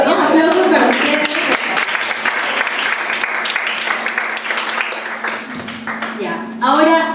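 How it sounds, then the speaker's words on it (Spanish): Audience applause during a talk on child psychology, steady clapping for most of the clip with voices rising over it near the start and again at the end. "Aplausos para ustedes."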